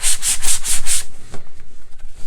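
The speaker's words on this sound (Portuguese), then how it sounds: "Eu tento sempre passar no fim a lixa reta." Sandpaper rubbed over a gesso-coated MDF board in five quick, even strokes, close and crisp, followed by a short quiet stretch with faint handling noise.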